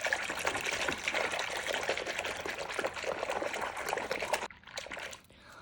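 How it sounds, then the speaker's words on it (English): A hand swishes soapy water in a basin to work up suds, giving a close, continuous sloshing and trickling that stops abruptly near the end, leaving quiet dripping. "I am going to just take my hand and I'm going to swish it to get some bubbles and some suds."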